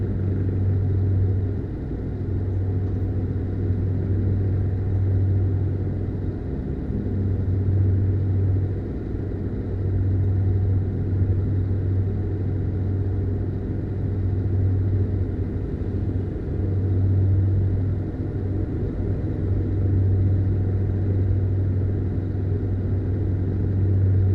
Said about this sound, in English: I've gone for the V8 noise in the background for the truck